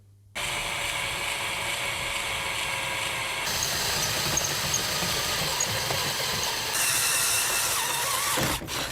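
A 32mm hole being drilled into a Classic Mini, a steady loud whirring drone running nearly nine seconds, shifting pitch partway through and cutting off near the end.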